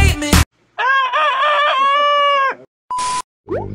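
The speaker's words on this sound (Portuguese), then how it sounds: "Bom dia, vocês escutaram o galo cantar?" A rooster crows loudly and close by in the morning at a motorhome campers' gathering. One long, full cock-a-doodle-doo is framed by brief bursts of other sound.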